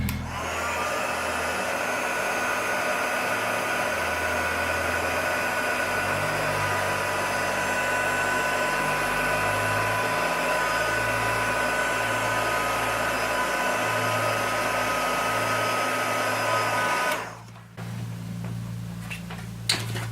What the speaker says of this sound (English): I'm going to now set it with a heat gun